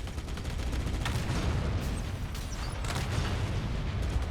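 Weapons fire in a snowy Halo Campaign Evolved battle: a faint, steady wash of continuous gunfire with rapid shots and muffled booms, rumbling without pause throughout.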